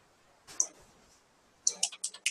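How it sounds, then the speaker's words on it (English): Computer mouse clicks while logging in to a real estate listings website: one sharp click, then after a pause a quick cluster of four or five clicks, close and crisp in a quiet room. "You'll click on member login on the top right hand corner."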